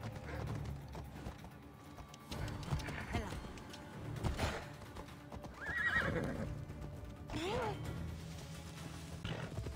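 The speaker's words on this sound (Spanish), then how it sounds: "La teoría de que los caballos en Assassin's Creed son unas cabras toma fuerza, y más con el siguiente video." Horses in the game Assassin's Creed Odyssey whinny and neigh several times over clopping hooves, with the calls rising loud and close between stretches of movement and a voice talking over parts.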